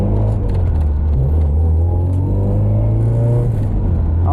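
A Honda Civic with an H2B engine not yet up to temperature runs with a loud, steady low rumble, its revs rising and falling slightly without cutting out.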